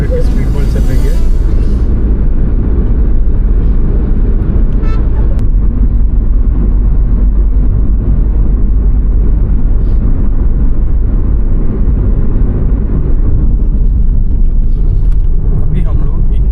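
Car cruising on the NH52 highway near Indore at 70-80 km/h, giving a loud, continuous low road and engine rumble with wind noise that stays steady throughout, with brief passing swells.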